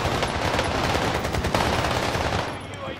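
Rapid machine-gun and rifle fire in a military shooter video game, dense overlapping bursts close and loud throughout, easing slightly near the end.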